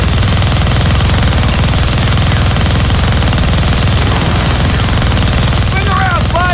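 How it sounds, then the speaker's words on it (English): Minigun fire in the video game Deadpool, a dense, continuous roar of rapid shots running steadily under the whole stretch, loud and unbroken, with a brief whine near the end. "Gonna need both hands to shoot that minigun."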